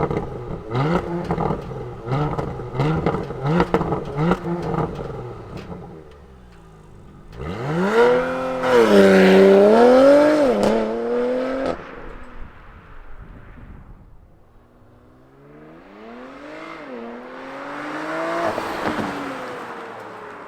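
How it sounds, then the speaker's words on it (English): A 2022 Porsche Macan GTS engine cranks and catches, then revs hard several times, rising and falling in pitch, loud and close. "let's fire up this Python Green Macan and hear what it sounds like"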